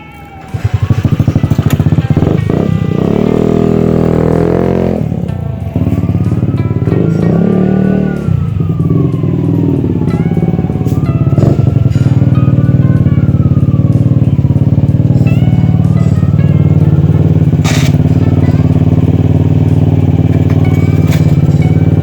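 A Honda Ruckus scooter is ridden with a loud, steady engine drone that rises and falls in pitch as it accelerates and eases off, staying close and continuous throughout.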